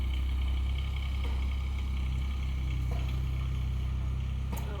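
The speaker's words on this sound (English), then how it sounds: "operating a U17 kubota and destroying the whole backyard here." A Kubota U17 mini excavator running while digging up a backyard, its diesel engine giving a steady low rumbling drone, close and continuous with no talk.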